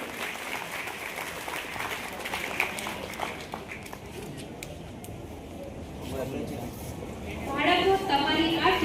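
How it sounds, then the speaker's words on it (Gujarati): An audience at a student award ceremony claps steadily after a top scorer is named. The applause is moderately loud and continuous and swells near the end, with voices mixed in. "તાળીઓનો ગોળાકાર મસ્ત મજાનો રાખજો"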